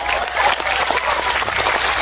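Loud, close clapping from an audience at an Islamic religious lecture in Taiwan, a full steady burst of many hands with distinct sharp claps running throughout.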